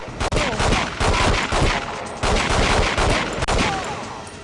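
Rapid bursts of gunfire from the James Bond video game The World is Not Enough, with repeated shots and volleys running continuously and fairly loud for several seconds.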